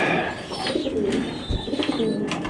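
Pigeons coo in soft, repeated throaty calls at close range, with a faint chirp or two and some background murmur.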